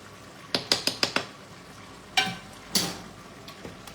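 A utensil scrapes and clinks in a pan while salt is stirred into tomato basil beef and zucchini: a quick run of five taps, then a few louder scrapes, close and without talk.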